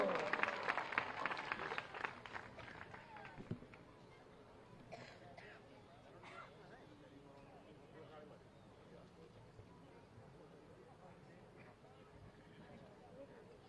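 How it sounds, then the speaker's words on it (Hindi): A crowd at an inauguration ceremony for a milk processing centre and gurukul applauds to welcome MP Hema Malini. The clapping is loud and dense for about three seconds, then fades into a low murmur with some talking. "जोरदार ताली से स्वागत कीजिए"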